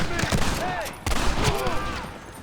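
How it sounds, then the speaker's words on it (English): Gunfire in the Red Dead Redemption video game, a rapid string of sharp shots, close and loud, mixed with shouting voices. "Stop shooting at me!"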